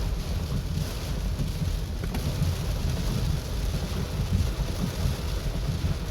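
Rain falls steadily during creek flooding in Trinidad, a dense, even hiss and patter that stays constant throughout with low rumbling underneath and no voices.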